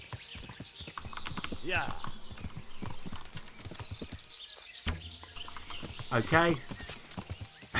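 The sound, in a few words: horse hooves and whinny in video game Kingdom Come Deliverance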